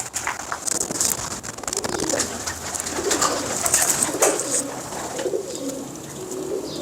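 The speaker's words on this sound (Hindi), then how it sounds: "मोशी भाई के भी कबूतर जो है ना बड़े पुराने कबूतर हैं माशाल्लाह।" Pigeons coo steadily and softly, their low throaty calls repeating over a faint hiss of background noise.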